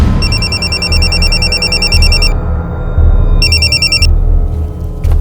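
A telephone rings loudly and close with a bright electronic trill, two bursts separated by a short pause, over a low steady background hum.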